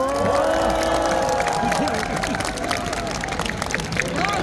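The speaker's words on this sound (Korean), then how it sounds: "다시 한번 큰 박수 부탁드리겠습니다" A large crowd at an outdoor election campaign rally in Daegu, South Korea claps and cheers continuously, with shouts and a voice over a loudspeaker mixed in throughout.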